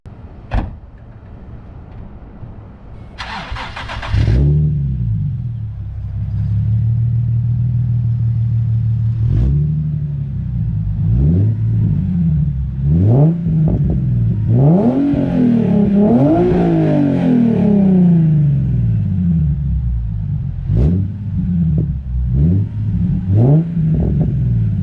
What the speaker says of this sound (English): so you guys can hear my exhaust